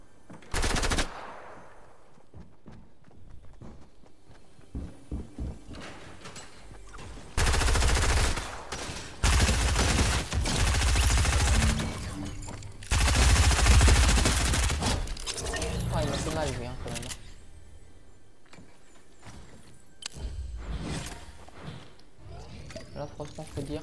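Automatic gunfire in the video game Fortnite, heard as several loud, dense bursts of varying length scattered between quieter stretches, with someone speaking French in between.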